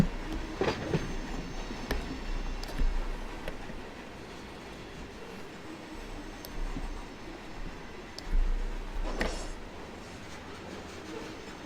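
A receiving train rolling in the Run8 V2 train simulator game, steady rumble with rhythmic wheel clicks over rail joints and a few brighter clacks, heard alone at moderate level.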